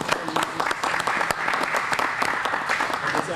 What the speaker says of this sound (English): Let's give Mr. Tony Down a little steakhouse applause for allowing us